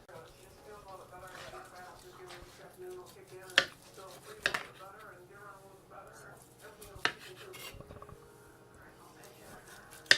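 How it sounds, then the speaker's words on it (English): A knife chops through barbecued ribs into portions of two or three bones, sharp irregular knocks on a cutting board while someone talks over the cutting. "I'm going to take these and I'm going to cut them into portions, maybe 2-3 bone segments"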